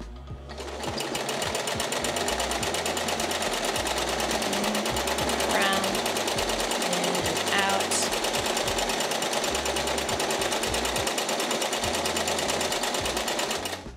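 A home sewing machine runs at a continuous high-speed buzz while free-motion quilting a meandering stitch, loud and close, with a voice talking over it in places.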